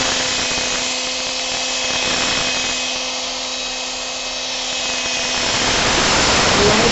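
Sandpaper rubs steadily back and forth across a plastic car headlamp lens during polishing, a close, continuous abrasive hiss with gentle swells as the strokes change.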